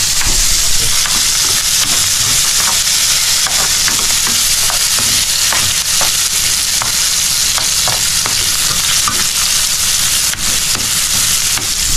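Onion, garlic and ginger sauté in a hot pan, producing a loud, steady sizzle with occasional clinks of stirring throughout, and no talking.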